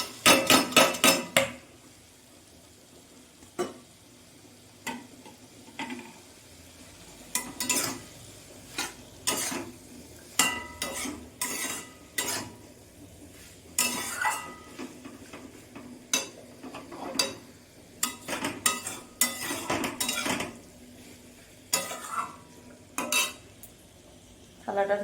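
Marinated soybean chunks cooking in a pan, stirred with a metal utensil: irregular clinks and scrapes against the pan come in bursts over a soft background sizzle, with no talking.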